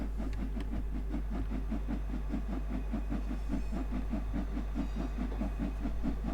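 Steam locomotive working hard under power on a railtour, with fast, steady, rhythmic chuffing beats over a constant low rumble and hiss, close and loud throughout.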